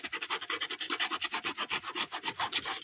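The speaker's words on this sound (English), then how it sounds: "I wish I had finer sandpaper." Sandpaper rubbed back and forth over the cover of a handmade grungy journal, a fast, steady rasping stroke repeated about eight times a second, close and alone with no talk.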